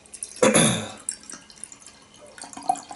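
Baird Dark Sky Imperial Stout, a Japanese beer, is poured into a glass: a short, splashy gush followed by quieter trickles and drips nearby.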